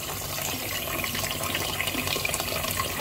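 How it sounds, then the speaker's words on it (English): Running tap water pours steadily into a sink while burgundy okra is rinsed, a close, continuous splashing gush with no talking. "So we got all the okra rinsed off"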